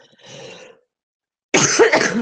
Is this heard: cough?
yes